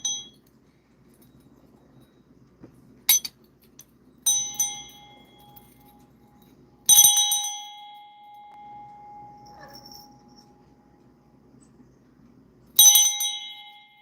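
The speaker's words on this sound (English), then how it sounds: "Ring this bell 3 times." A small handheld bell rings three times, each a bright, clear chime that rings on and fades, with a faint soft click or tap between the rings and no voice.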